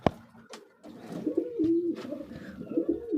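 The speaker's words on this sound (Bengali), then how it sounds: "এই যে দেখেন আমার সুন্দর কবুতর।" Free-roaming pet pigeons at their loft coo in low, throaty, rolling murmurs that overlap and carry on steadily after a sharp click at the start, close by with no speech.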